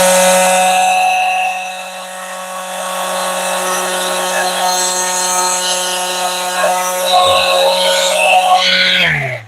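Sanding with coarse 40 grit sandpaper during a mini truck camper build gives a loud, steady motorized whine with a rough, gritty scrape running continuously.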